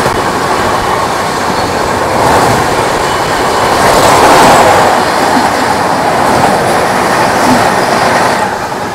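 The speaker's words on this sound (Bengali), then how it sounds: "এসএমবিটি বেঙ্গালুরু থেকে হাওড়া সুপারফাস্ট" An SMVT Bengaluru–Howrah superfast express runs at speed, giving a loud, continuous rumble with a rhythmic clickety-clack of wheels over rail joints and no voices.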